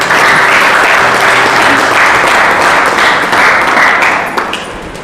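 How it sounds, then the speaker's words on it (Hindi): A church congregation claps hands steadily and densely for about five seconds, a loud, close, continuous wash of applause with faint voices underneath. "प्रभु की केवल एक बहन ताली बजा रहे, आप लोग भी बजा दो"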